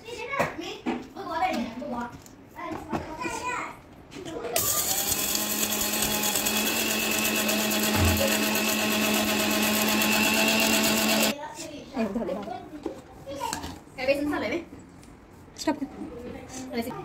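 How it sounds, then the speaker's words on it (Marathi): A mixer grinder grinds cardamom and sugar, a loud, steady whirring running continuously for several seconds, preceded and followed by people talking, including a voice. "तर हे मी मिक्सरला लावून घेते।"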